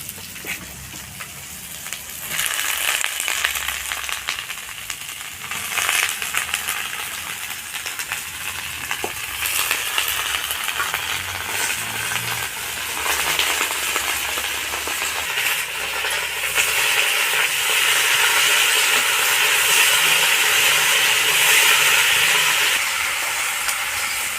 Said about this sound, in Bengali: সবজিগুলো আমার ভাজা হয়ে গেছে, এবার আমি পালং শাকগুলো দিয়ে দেবো।